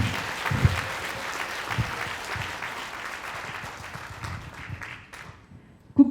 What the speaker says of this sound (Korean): 여러분들의 뜨거운 박수와 함께 시작하겠습니다